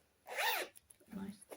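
A zipper on a fabric project bag zips in one quick, close pull, followed by a shorter second zip pass; a soft voice is nearby.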